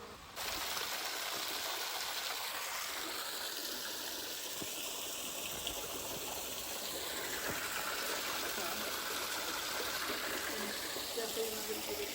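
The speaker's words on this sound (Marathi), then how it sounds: "आता इथं सध्या एक नदी आहे, याच्यामध्ये सध्या ती पाणी चालू आहे" River water flowing steadily near the Jogeshwari caves in Maharashtra, a continuous broad rushing wash that holds at an even level for the whole stretch with no talk over it.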